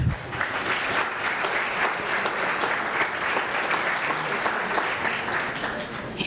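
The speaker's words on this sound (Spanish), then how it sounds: "Un aplauso para ustedes, jóvenes." Audience applause for young people at a project closing event in Panama, a thick even round of clapping that carries steadily for several seconds at moderate loudness.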